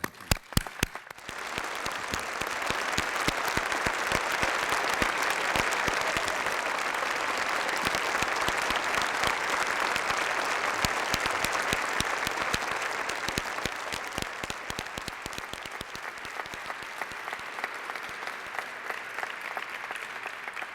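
Sustained applause from a ceremony audience honoring recipients of the National Medals of Science and Technology, a dense wash of clapping that swells after a brief quiet start and slowly thins toward the end.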